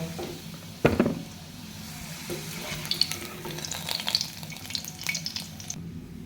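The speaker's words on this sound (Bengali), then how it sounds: "আলুগুলো উল্টাই দিয়েছি ভেজে নিচ্ছি" Potatoes frying in hot oil in a pan give off a soft steady sizzle, with a sharp clatter near the start and light stirring and spattering crackles, close, with no talk.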